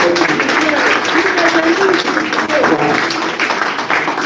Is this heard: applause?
yes